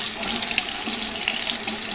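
Water running steadily from a tap into a sink while waiting for it to turn hot, a continuous close splashing rush with no talk.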